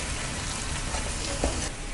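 Prawn pepper fry being stirred in a pan just after the gas is switched off, a steady close sizzle with soft scraping of the spoon, one brief louder clack near the end.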